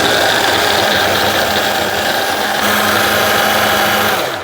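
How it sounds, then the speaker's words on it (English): A food processor cutting butter into flour for tart pastry, a loud, steady motor whir that runs without pause for several seconds and then begins to wind down, with no talking. "I want to process that until the butter is incorporated and the texture is like fine breadcrumbs or coarse sand."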